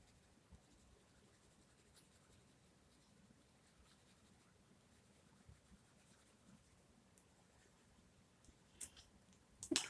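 A burnt ochre coloured pencil shades on paper with faint, soft scratching strokes, quiet and close. A few louder taps and rustles come near the end.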